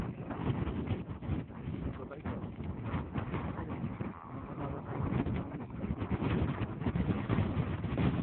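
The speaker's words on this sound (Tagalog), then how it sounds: "Lakas ng hangin dito. Nakakatakot." Strong wind roars and buffets constantly against the microphone, a dense low rumble with no pauses, with muffled voices mixed in.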